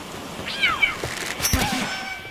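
A cat in the Palworld video game meows twice, with a drawn-out, rising-and-falling call followed by a shorter, sharper meow a moment later, heard clearly with no talking.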